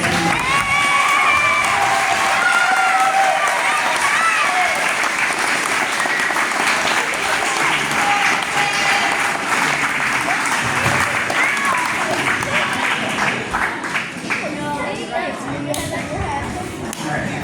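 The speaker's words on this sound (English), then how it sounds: "Can we give them another round of applause?" Big school-concert audience applauding for a long stretch, a steady dense roar of many hands clapping with some cheering and children's shouts mixed in, loud and continuous throughout and easing slightly near the end.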